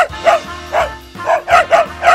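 Repeated dog barking, a loud nearby dog giving about six sharp woofs in an uneven rhythm with short gaps, with no other sounds.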